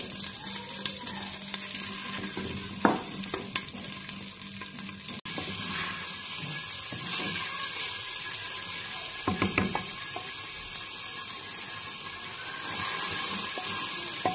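Onions hit hot oil in a handi for a black chana curry, giving a loud, sustained sizzle up close, with occasional clatters of a stirring spoon against the pot.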